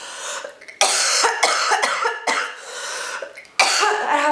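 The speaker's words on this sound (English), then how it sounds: "I have the worst cough ever." Several harsh, loud coughs close up, coming in bursts with short pauses between them and a throat-clearing rasp among them.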